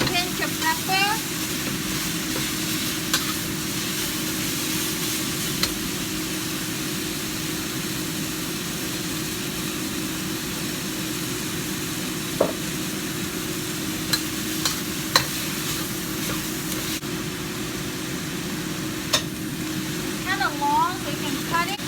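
Chicken mei fun rice noodles and vegetables stir-frying in a pan, a continuous loud sizzle under a steady hiss with occasional scraping clicks of stirring, alongside a constant low droning background; a voice is briefly heard.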